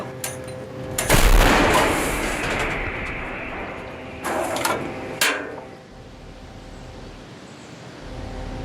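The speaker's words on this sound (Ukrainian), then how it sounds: "Гармата! Постріл!" Artillery gun firing a single shot outdoors, a sharp heavy blast rolling into a long rumbling echo, followed by a couple of fainter distant thuds.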